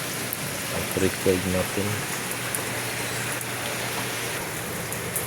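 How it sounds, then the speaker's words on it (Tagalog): Heavy rain falls steadily over an outdoor fish-breeding area, a continuous wash of noise, with someone talking briefly near the start. "lakas na ng ulan"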